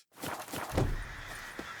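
Roach, Geralt's horse in The Witcher 3 video game, gives a close neigh with a sharp onset, over a steady game ambience and a soft thump near the end.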